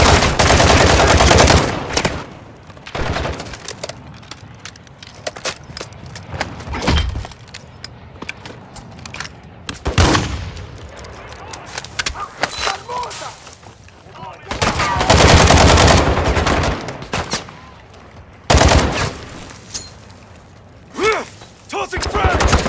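Bursts of automatic gunfire and explosive thuds from a PS5 military shooter game, loud clusters of rapid fire separated by quieter stretches, with voices heard between the volleys.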